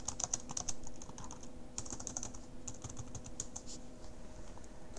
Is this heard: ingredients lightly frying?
no